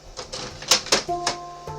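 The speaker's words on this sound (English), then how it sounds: "it prints the 10th page first, and then counts it down all the way to the first page" A printer running a print job makes a series of mechanical clicks and whirring feeds, close and moderately loud, with a faint steady tone underneath.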